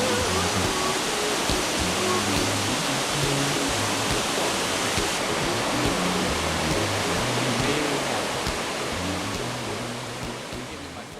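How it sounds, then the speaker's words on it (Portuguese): The Perequê river waterfall in Mambucaba park roars as a steady, broad rush of falling water, loud and continuous throughout, with faint background music and a soft narrating voice beneath. "A cachoeira do rio Perequê é a mais próxima do centro do Parque Mambucaba, visitada por vários moradores e turistas."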